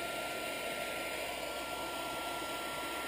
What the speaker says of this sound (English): This is not a hairdryer, this is a heat gun.